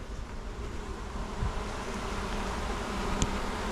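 A swarm of bees hums around a nuc hive box being settled outdoors, a dense continuous buzzing close by at moderate level with occasional individual bees passing nearer.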